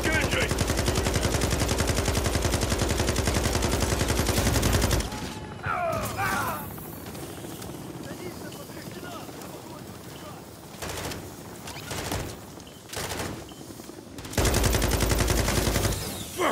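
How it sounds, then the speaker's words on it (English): Automatic gunfire aimed at a helicopter in the Call of Duty MW3 campaign mission "Reactor", with loud sustained bursts at the start and end and sparser shots, explosions and mechanical noise in between. "All Bravo, put fire on that helo."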